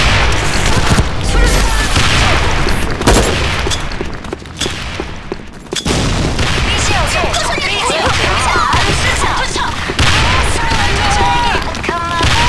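Grenade blasts and gunfire from the online shooter Sudden Attack ring out loud and dense, with booming bursts and rapid shots layered over game music and voices throughout, briefly dipping midway before the barrage resumes.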